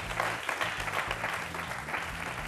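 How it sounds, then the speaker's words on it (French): Applause from an audience at a young entrepreneurs' community event, brief and steady, with some low musical tones running underneath. "Merci aussi de l'applaudir."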